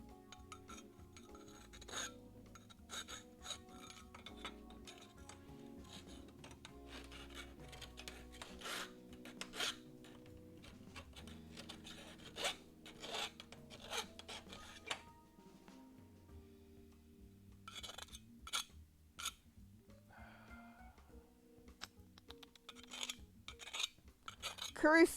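A metal burr is filed off in a garage, giving a steady rasping scrape with scattered clinks and knocks. It continues at low level for the whole stretch with no talking.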